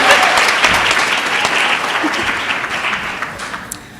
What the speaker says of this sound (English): let's give Mama Lau another round of